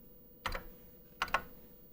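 Keystrokes on a Fairlight CMI IIX computer keyboard: one firm press, then two quick presses close together, crisp and near in a quiet room.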